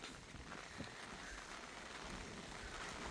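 Rain falls on harvested rice left out to dry, a faint, steady patter heard alone without voices.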